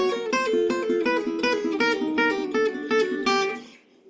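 Electric guitar plays a fast rock lick, a quick run of bright picked notes in a steady rhythm, loud and close, then ringing out and fading near the end.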